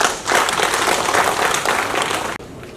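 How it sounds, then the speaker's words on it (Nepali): A crowd at a CPN-UML political rally applauding loudly, with dense, sustained clapping that swells slightly and then cuts off abruptly near the end. "ताली बजाउनु"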